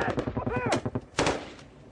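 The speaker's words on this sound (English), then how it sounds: "by now their positions are under intense fire" Rapid bursts of rifle and machine-gun fire crack out during a firefight in Afghanistan, several close, loud shots in quick rhythm followed by a heavier blast, with a shouting voice briefly among them.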